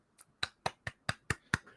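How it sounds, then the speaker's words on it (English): A sequence of seven or eight sharp, crisp hand claps at a steady, fairly quick rhythm, each short and percussive, recorded close and alone with silence between them. "My clap is not as loud."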